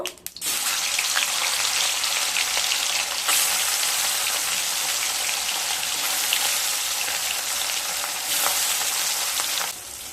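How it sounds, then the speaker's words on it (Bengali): Fish frying in mustard oil in a wok: a loud, dense, continuous sizzle that holds steady for several seconds, close by and without any voices. "এবার মাছগুলোকে ভেজে নেব।"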